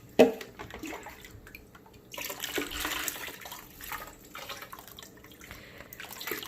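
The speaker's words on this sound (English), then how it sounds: "now I put the water all over the pumpkin" Water poured over a pumpkin with intermittent splashing and trickling, uneven bursts separated by brief pauses, fairly close and moderately quiet.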